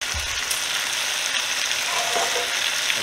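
Vegetables searing in a hot pan, a steady, close, dense sizzle and crackle that holds evenly throughout without pause.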